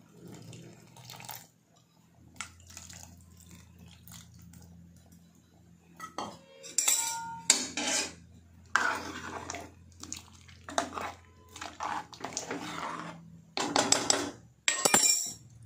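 Tamarind juice poured into a pot of vegetable lentil sambar, with splashing liquid amid clinking utensils and pot sounds in bursts, fairly close and without talk.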